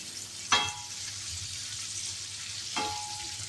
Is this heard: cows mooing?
no